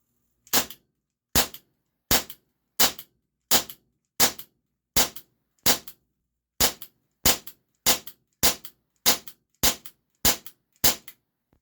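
A Cybergun Baby Eagle airsoft pistol fires about fifteen sharp, evenly spaced shots in a steady rhythm at close range until the magazine runs empty, with no talk.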